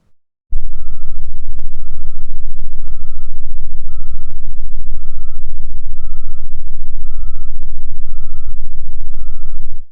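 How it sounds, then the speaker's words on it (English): A truck's backup alarm rendered as it would sound on Mars: evenly spaced, thin beeps repeat about nine times over a steady low, muffled engine rumble, with no talking. "truck backing up as it would sound on Mars"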